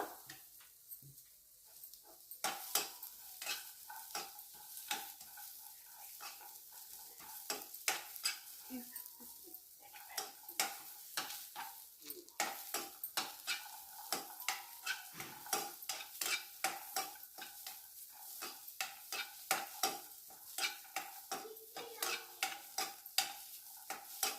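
Chopped onion, ginger and garlic fry in a pan while a utensil stirs and scrapes repeatedly, giving a steady sizzle broken by frequent sharp metallic clinks and scrapes, close and fairly loud.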